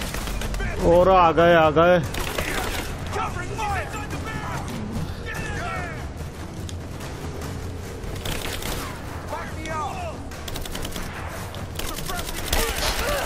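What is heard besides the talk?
gunfire in the video game Rise of the Tomb Raider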